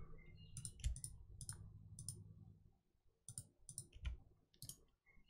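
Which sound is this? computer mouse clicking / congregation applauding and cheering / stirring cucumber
computer mouse clicking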